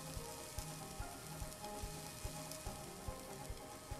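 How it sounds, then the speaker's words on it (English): Butter heats in a hot pan in the cooking game Cook, Serve, Delicious!, a faint continuous sizzle with soft, evenly spaced ticks that repeat roughly every half second. "Be sure to wait for the pan to get hot with butter before placing the bananas."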